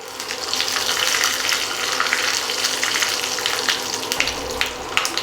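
Urad dal, chana dal, curry leaves and four dried red chillies sizzle in hot oil for a tempering, a steady dense crackle and hiss that stays loud and close throughout with no talk.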